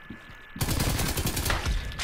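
Gunfire in Call of Duty: Cold War begins abruptly after a quiet half second and breaks into rapid, close automatic shots that continue loudly to the end.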